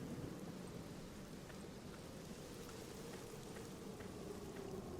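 Steady rain falls with a soft, even hiss and faint low rumble beside a candlelit monument in The Black Mirror video game, quiet and continuous with no voices.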